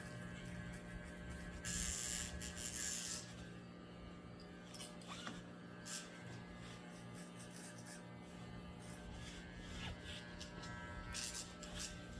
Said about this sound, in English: Drag this side of the clipper